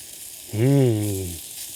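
Paprika sausage sizzles in a small cast iron pan over a campfire, a steady hiss running throughout while a loud, brief droning, voice-like tone swells over it for about a second.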